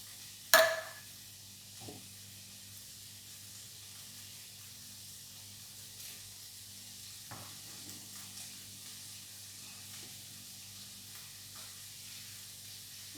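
Minced beef stirred and frying in a pan for lasagna, a faint steady sizzle with occasional soft scrapes of the spoon and a sharper knock near the start.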